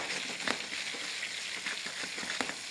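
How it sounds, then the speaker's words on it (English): Shallots sizzling in a hot pan while being shaken, a soft steady frying hiss broken by a few light rattling jolts, fairly quiet and with no talk. "Add my shallots very, very quickly."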